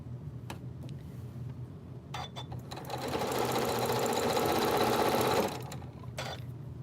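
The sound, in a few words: sewing machine chain sewing half square triangles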